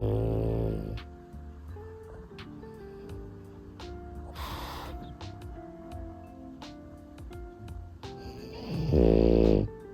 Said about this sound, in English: the dog I'm minding is snoring right next to the camera.